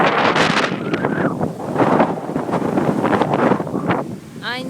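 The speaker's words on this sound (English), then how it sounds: "It's currently experiencing a massive windstorm." Strong windstorm gusting on a Caribbean beach in Riohacha, Colombia, loud continuous roaring buffeting against the microphone with surf mixed in, no talk.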